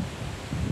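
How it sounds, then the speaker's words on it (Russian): Strong wind gusting around a park table tennis area, a steady broadband rush with low rumble that swells in the second half, no voices present. "сильный ветер."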